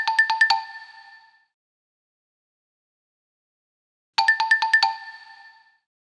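Xylophone from the Lamb Chop Loves Music PC game, with a quick run of five bright struck bar notes ringing briefly, played twice with a pause between, clear and close with no voices.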